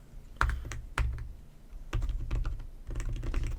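Keystrokes on a keyboard attached to a 12.9-inch iPad Pro, heard up close: quick clusters of crisp clicks separated by short pauses, with no voice over them.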